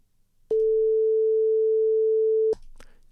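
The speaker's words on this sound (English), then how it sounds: "let's have a listen to that sine wave" A pure sine test tone played in a studio: a single steady, unwavering pitch held for about two seconds, starting and stopping abruptly with small clicks, loud against near silence.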